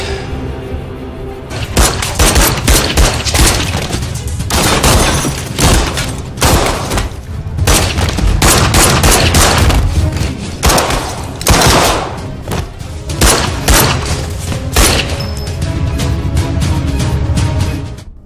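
Dense bursts of gunfire and heavy thuds crash through a film fight scene, loud and nearly continuous with booming impacts and scattered cracks layered over a driving soundtrack.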